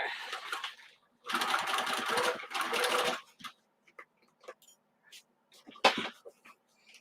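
A sewing machine stitches a messenger bag in two loud running bursts with a short pause between them, followed by scattered clicks and small handling noises.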